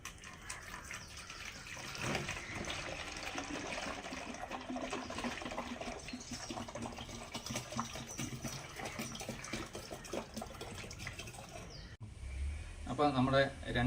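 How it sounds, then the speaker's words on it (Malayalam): Water gushes steadily into a 2-litre garden sprayer, a continuous close pour that runs for most of the stretch before shifting briefly near the end. "ഇനി അഡീഷണൽ 1 ലിറ്റർ വെള്ളം കൂടി നമ്മൾ ഇതിലേക്ക് ഒഴിക്കുകയാണ്."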